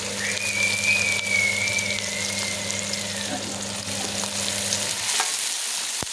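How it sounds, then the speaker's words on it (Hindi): Onions sauté in a few spoonfuls of oil, sizzling steadily up close with faint stirring. A thin whistling tone runs through the first half, and the frying fades out near the end. "ये हमारे प्याज जाएंगे। प्याज को हमने हल्का सा सौटे करना है।"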